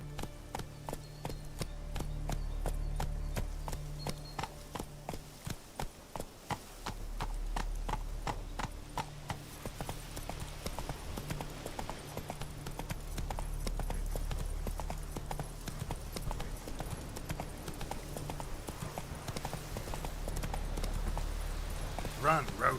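Roach, a horse in The Witcher 3: Wild Hunt, gallops with steady, rapid clip-clop hoofbeats close up throughout, under a low rumbling game soundtrack, with brief voice commands heard.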